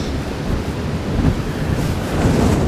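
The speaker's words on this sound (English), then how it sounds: "And boy, is it windy." Strong wind roaring and buffeting across the microphone while riding a Sur-Ron Light Bee electric dirt bike, a dense continuous rush with surf-like low rumble throughout.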